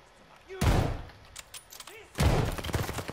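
Gunfire in the Call of Duty: Vanguard campaign: two sharp, loud bursts of shots about a second and a half apart, each trailing into a short rattle, with brief faint vocal sounds in the gaps.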